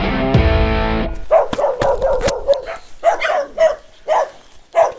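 Several dogs bark repeatedly at a house in a small village, a quick irregular run of loud, close yaps and woofs, with a brief non-barking tonal sound at the start.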